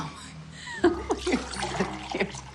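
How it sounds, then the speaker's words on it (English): Water pours into a glass at a dinner table, a short burbling splash with a few gurgling bursts heard close, under a murmur of voices. "can you pour me some water so I don't get dehydrated?"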